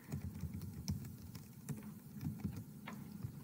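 Soft, rapid clicking of a computer keyboard as a recording's new name is typed, irregular light keystrokes at low volume with no talking.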